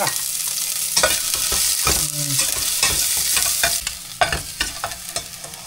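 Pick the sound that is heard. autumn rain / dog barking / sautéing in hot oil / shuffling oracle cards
sautéing in hot oil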